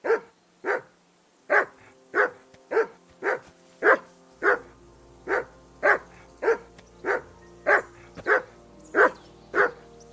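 A dog in the medieval game Kingdom Come Deliverance 2 barks in a steady, evenly spaced series of about fifteen loud, close barks, with no voices.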